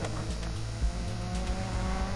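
A rally car engine revs in Dirt 4 before a manual start, a close, loud rasping drone with pulsing low harmonics that rise and fall in repeated blips while the car is held on the handbrake.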